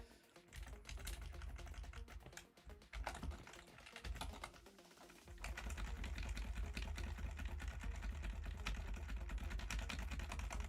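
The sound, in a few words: typing hard on a computer keyboard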